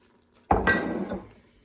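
Evaporated milk is poured into a soup pot of cheeseburger soup, opening with a sharp clink of the can against the pot, then a short wet splash and glug that fades within about a second.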